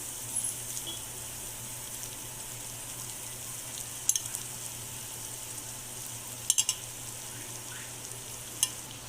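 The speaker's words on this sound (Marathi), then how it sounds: "हळद टाकून परतून झाल्यावर आपण यामध्ये आता चिरलेला कोबे टाकून तो व्यवस्थित परतवून घेऊया" Chopped cabbage stir-fried with ginger, garlic and turmeric in a pan, a soft continuous sizzle with a few sharp spatula scrapes and clinks standing out.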